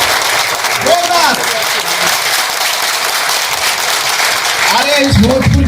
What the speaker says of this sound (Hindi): जरा भोजपुर की ताली बजा दी जाए जोरदार जोरदार जोरदार, ये जोरदार